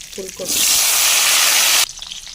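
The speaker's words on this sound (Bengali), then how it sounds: "এবার ফুলকপি আলু ভেজে নেব" Cauliflower and potatoes drop into hot oil and burst into a loud, dense hiss of frying that holds steady for over a second before cutting off, with a voice briefly heard before it.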